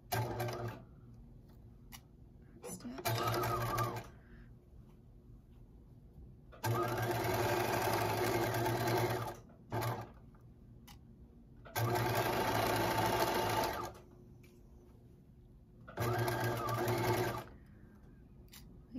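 A sewing machine stitches a fleece pullover seam in four steady bursts of whirring, each a few seconds long and separated by short pauses, close and clear with no talk.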